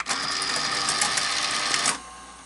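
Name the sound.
Sanyo 4000 Beta VCR mechanism running in play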